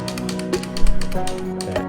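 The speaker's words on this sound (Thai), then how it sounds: "ให้ทำการกดปุ่มซ้ายที่คีย์บอร์ด 12 ครั้งครับ" A computer keyboard key pressed repeatedly while editing a clip, giving a run of light, evenly spaced taps close up over a steady tonal background hum, with no speech.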